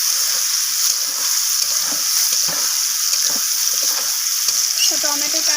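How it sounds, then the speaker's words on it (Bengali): Green tomatoes frying in oil in a pan for a spicy small-fish dish give a loud, steady sizzle with light stirring, and a faint voice enters briefly near the end. "টমেটোটা দেখুন এখানে লাড্ডু হয়ে ভাজা হয়ে গেছে"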